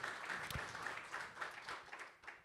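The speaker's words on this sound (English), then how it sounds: "Round of applause for the boys" Applause from a small group cheering two traders, a steady patter of clapping that stays faint and distant for a couple of seconds.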